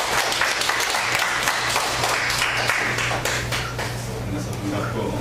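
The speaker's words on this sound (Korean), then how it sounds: "박수로 환영드렸습니다." A church congregation applauds to welcome a member during a Sunday service, a steady wash of claps filling the room at moderate distance, with voices murmuring beneath.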